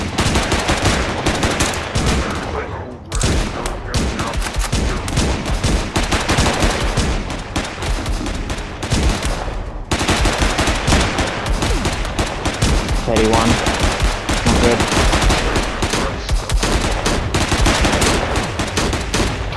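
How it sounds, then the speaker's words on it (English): Continuous loud machine gun fire in the video game Cactus Cowboy rattles in long dense bursts with a short pause, close and dominant, with a player's voice faintly under it. "I'm gonna fucking machine gun you."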